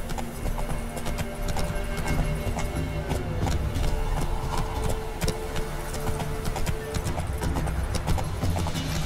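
A horse galloping in The Witcher 3, with quick, steady hoofbeats that run the whole way over a dense background of game ambience, and no talking.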